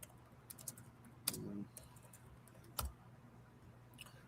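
A few scattered, faint keystrokes and clicks on a computer keyboard, irregularly spaced in a quiet room with a low hum, plus one slightly louder knock.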